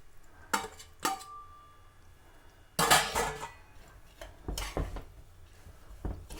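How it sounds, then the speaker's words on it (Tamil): Coconut rava laddu mixture is roasted and stirred in a pan, giving sharp metallic scrapes and clanks of a spoon against the pan in irregular bursts, louder in the middle, close by with no talking. "இது எல்லா இடம் போகிற மாதிரி வறுத்து விடுங்க."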